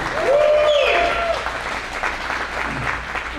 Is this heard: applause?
yes